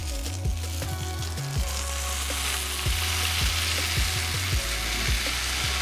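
Burger meatballs of brisket, short rib and NY strip sizzle loudly and steadily on a hot griddle as a bacon press smashes them flat, with dull thuds of the press and scraper clanks over the continuous frying hiss.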